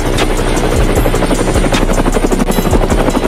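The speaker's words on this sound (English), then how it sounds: "it's the helicopter." Helicopter in a shooter video game, a loud continuous rotor thump and engine buzz with rapid rhythmic chopping filling the clip, close and steady, with sharp gunfire-like transients scattered through it.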